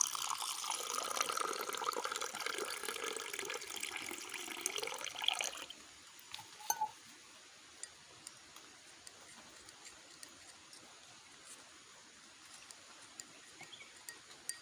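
Water pours steadily into a glass holding nannari root essence for about five seconds, its tone rising as it fills, then stops, leaving faint drips and small clinks.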